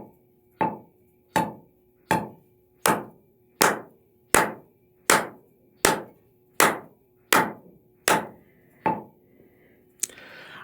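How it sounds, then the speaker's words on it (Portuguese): Single sharp hand claps in strict time with a metronome at 80 bpm, about a dozen evenly spaced crisp claps, close and alone, each decaying quickly into near silence. "eu vou bater palmas junto do metrônomo no momento mesmo em que ele pulsar"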